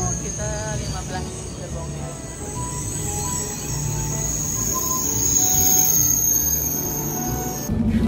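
A Korean KTX high-speed train departs after boarding and runs, its steady rolling hum building gradually with faint tonal whines and a thin high squeal above, moderately quiet and continuous, heard from aboard.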